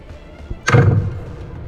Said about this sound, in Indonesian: Dan ini yang kedua kalinya saya mendengarkan suara bomnya.